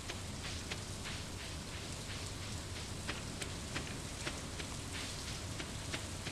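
Steady rain in the Stardew Valley video game, a constant soft hiss with scattered pattering drops, faint and even throughout with no voices.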